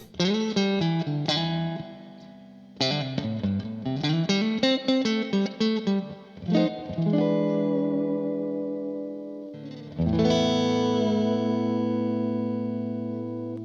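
Harley Benton Fusion-IV HH electric guitar played through effects, with distorted, chorus-tinged chords and bending notes ringing out with reverb, then a final long chord left to sustain and fade.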